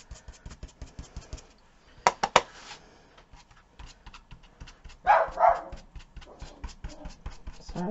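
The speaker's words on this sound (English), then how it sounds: "Sorry about my dogs." Dogs bark indoors during a craft session, with several sharp bark bursts at around two and five seconds among quieter shuffling and thumping sounds.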